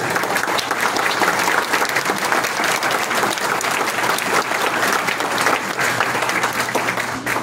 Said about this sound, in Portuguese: Quem aplaude atrás.